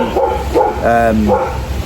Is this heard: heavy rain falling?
no